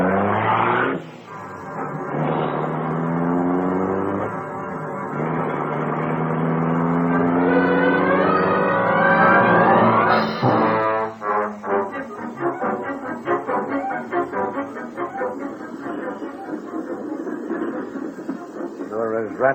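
The Black Beauty, the Green Hornet's car, starts up with a loud, sustained droning roar that rises and swells in pitch, then gives way to a steady rattling, rumbling drive noise.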